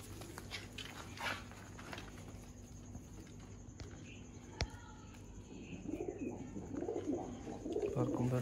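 Sialkoti pigeons cooing at a pigeon seller's in Sialkot: soft, low coos come faintly and intermittently over a steady background hum, with a brief sharp click partway through and a louder rustling stir near the end.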